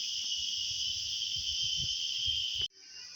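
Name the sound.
insects chirping in thorn bushes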